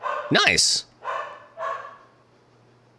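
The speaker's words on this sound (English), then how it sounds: "sorry about the dog in the background" A dog barks sharply several times nearby in the background of a room, a loud burst followed by two shorter barks, with a brief spoken word over it.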